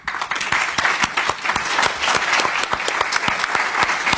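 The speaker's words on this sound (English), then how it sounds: "And let's give a round of applause." An audience at a plenary address on inequality and rural poverty applauds after a presentation, dense loud clapping from many hands sustained throughout.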